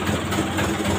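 Vespa scooter engine idling at low RPM with a compression leak and fouling spark plug, a steady close low putter with faint irregular knocking.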